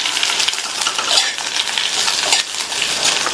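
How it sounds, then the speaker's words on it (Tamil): Okra fries in oil in a pan over a medium flame, producing a dense, continuous crackling sizzle that stays close and loud, with faint scrapes of a utensil now and then. "வெண்டைக்காயை ஃப்ரை பண்ணிட்டு இருக்கலாம்"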